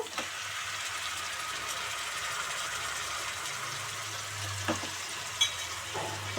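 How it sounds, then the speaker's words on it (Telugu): Chicken pieces dropped into hot oil in a frying pan for a spicy chicken curry, giving a steady, even sizzle that runs throughout, close by, with a few faint clinks near the end. "ఇప్పుడు వేగిపోయింది కదా దీంట్లో చికెన్ వేసేసుకుందాము"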